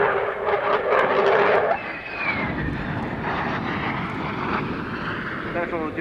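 At an air show, an aircraft with its undercarriage coming down for landing roars past with a loud engine whine and rumble that fades to a broad steady drone, heard under a commentator's voice.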